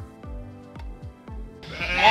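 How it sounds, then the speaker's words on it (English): Sheep bleating in a small, crowded field: several separate bleats come at irregular intervals, fairly close, and a broad rushing noise rises near the end. "there's tons of sheep in this tiny little field"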